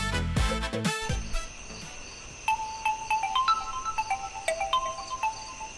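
A mobile phone ringtone plays as a bright, repeating electronic melody of short beeping tones, fairly close and clear, following a brief burst of louder noise at the start.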